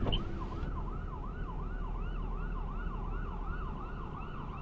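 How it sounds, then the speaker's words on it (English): An emergency siren in New York wails in a fast, regular up-and-down pattern, steady and moderately close, over a low rumble of traffic with no voices. "You hear the sirens, right?"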